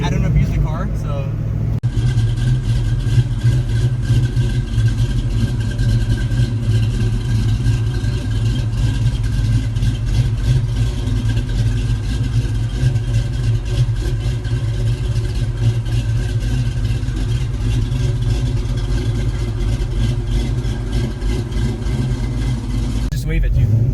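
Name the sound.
408W SN95 Ford Mustang engine during ride along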